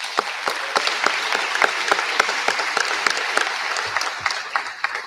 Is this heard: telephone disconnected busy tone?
no